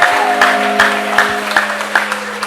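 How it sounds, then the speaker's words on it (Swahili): An audience claps at a steady, lively pace with ululation mixed in, loud and close, with sustained tonal trilling voices above the dense patter of hands. "Mshangilie kwa makofi na vigelegele"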